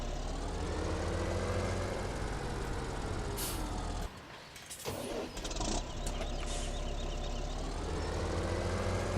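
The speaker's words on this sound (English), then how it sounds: "Move the tractors forward." Tractors in Farming Simulator 17 run with a steady diesel engine drone, briefly dropping and hissing like an air brake midway before the engine noise resumes.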